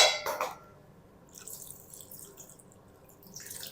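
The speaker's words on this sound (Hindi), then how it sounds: "फ़ौरन हम इसके ऊपर ठंडा पानी डाल देते हैं ताकि ये कलर चेंज ना करे।" Cold water splashes from a tap over blanched spinach in a kitchen for a chicken palak dish: a brief loud gush at the start, then quieter intermittent trickling and dripping.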